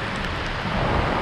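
Heavy rain pours down after a church mass, a dense steady wash of broadband noise that swells slightly louder midway, with no voices.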